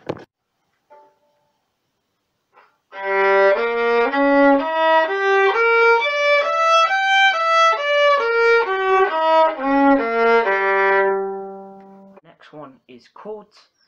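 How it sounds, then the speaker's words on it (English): A solo violin plays a broken diminished seventh arpeggio on G across two octaves, each note bowed separately in a clear rising and falling line, close and resonant, with brief knocks before and after. "as you hear on the violin, I'll play it each note individually, and it will be two octaves"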